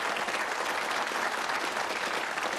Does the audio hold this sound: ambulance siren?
no